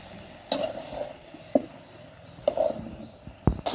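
Bottle gourd and fish curry is stirred in a pan, with a few scattered spatula scrapes and soft clinks over a faint simmering sizzle, close and quiet between strokes.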